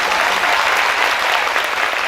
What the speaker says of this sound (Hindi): ये ऐसा यीशु के लिए ताली बजा सकते हैं।